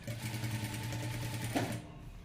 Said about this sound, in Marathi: हळूहळू आपल्याला शिलाई मारत चालायची आहे